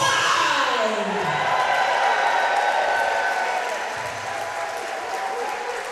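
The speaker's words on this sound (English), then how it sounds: "Another roar from the crowd to welcome Leon Cage and Shane Hook." Big pro wrestling crowd roaring and applauding at Pro Wrestling Chaos as the tag team Rising Tide, Shane Hook and Leon Cage, make their entrance, a steady loud wash of cheers with a commentator's voice over it.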